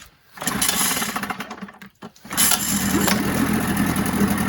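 A Mercury two-stroke outboard engine, 7.5 or 9.8 HP, cranks over, catches and settles into a steady, loud buzzing run, with a brief pause before it picks up again and holds its note.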